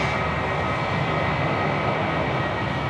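A Qantas airliner arriving from Perth at Sydney Airport at night, heard as a loud, steady, broadband engine roar that holds throughout with no change in level, with no talking.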